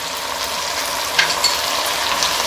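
Chicken with spices and garam masala fries in a pan for biryani, giving a steady loud close sizzle with a few faint scrapes of stirring and no talking.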